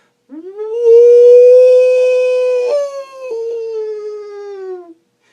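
A single human voice imitates a wolf howl, one long rising and falling wail that breaks in pitch partway through, loud and close, with no other sounds.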